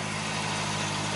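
A Honda CB650R motorcycle engine idles steadily just after a cold start outdoors, a continuous low rumble with even harmonic hum, close and alone with no talk.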